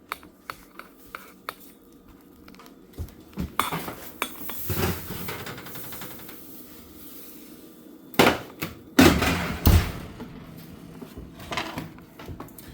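A baking pan of peach cobbler comes out of the oven amid clattering metal pans, utensil clinks and oven or cupboard knocks, in loud bursts separated by quieter stretches, with no talking.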